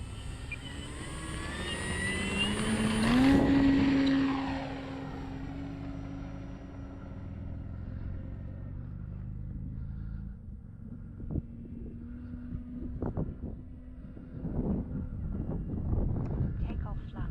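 A Carbon Z T28 radio-controlled model airplane revs up and takes off, its electric motor whine rising to a loud peak nearby and then fading as it climbs away, with outdoor wind noise and brief knocks afterward.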